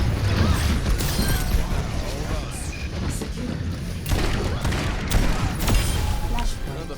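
Gunfire in the video game Overwatch, a dense, loud run of rapid shots and thuds with booming impacts across the whole stretch, with a voice talking over the game sounds.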